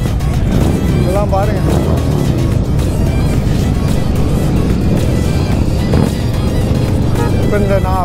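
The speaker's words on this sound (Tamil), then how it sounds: "இதாலே ஒரு பிஎம்டபிள்யூ இருக்கு, வண்டியெல்லாம் கிளம்புது பாருங்க" Motorcycles, including a BMW, rev and pull away at a busy bikers' meet, a dense close roar of engines with rising whines, while people talk through the din.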